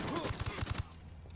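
A burst of rapid gunfire in the video game Ghost Recon Wildlands, roughly six sharp shots in quick succession before cutting off, loud and close.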